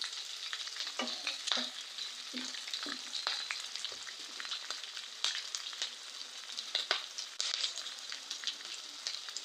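Onions and green chillies fry in a pan, a soft steady sizzle broken by scattered scrapes and taps of a stirring spoon, quiet and close.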